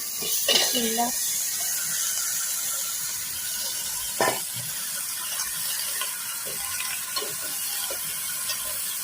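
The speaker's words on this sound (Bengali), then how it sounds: "এখন আমি এই কেটে রাখা টমেটোগুলো দিয়ে দেব" Chopped tomatoes go into a hot pan for a tangy Bengali tomato tok/tenga, giving a steady broadband sizzle throughout with occasional scrapes and clinks of stirring and a brief voice-like sound near the start.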